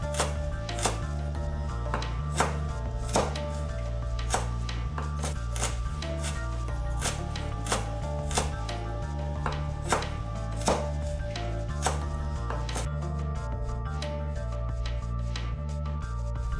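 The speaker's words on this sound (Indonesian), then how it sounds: "Lalu dilanjutkan dengan iris tipis-tipis secara memanjang seperti memotong batang daun bawang sebelumnya." A knife thinly slicing ginger lengthwise on a cutting board, with sharp, regular chops repeating about every half second over a low steady hum.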